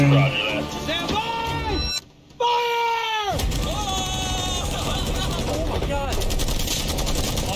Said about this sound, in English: We're locked and loaded, ready to fire on you, Jimmy.